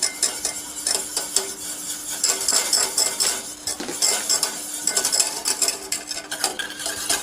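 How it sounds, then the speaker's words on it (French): Milk powder whisked into a boiling butter and liquid mixture in a saucepan for choux pastry, quick metallic whisk strokes clinking against the pan over a faint bubbling hiss, close and busy throughout. "À ébullition, retirer du feu et verser en fouettant la poudre de lait"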